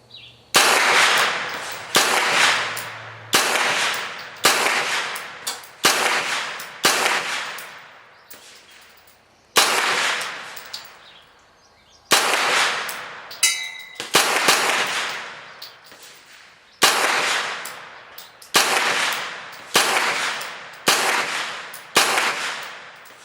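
Gunshots from a 9mm handgun firing Magtech steel-cased ammunition outdoors, loud sharp cracks in uneven bursts of two to four rounds with short pauses between groups, each shot ringing out briefly.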